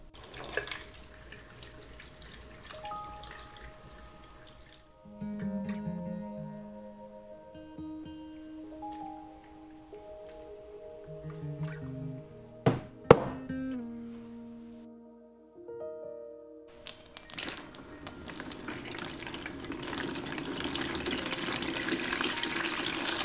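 Running water washes photographic film. Splashing and dripping come and go at moderate level, with a few sharp clinks partway through and a steadier gushing flow near the end.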